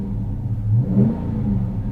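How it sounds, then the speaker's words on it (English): A 2022 Dodge Charger's engine revs while driving, a deep close rumble swelling briefly in the middle and then settling, with no voices. "as we start to rev the engine as we drive"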